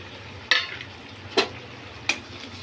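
Prepared food pieces go into a pan over a flame, giving three short, sharp sizzling bursts spaced about a second apart above a low, quiet background hum.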